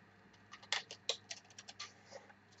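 Scissors snip through paper while cutting out Valentine ephemera, giving a quick, faint run of crisp, irregular clicks and rasps close by with no talking.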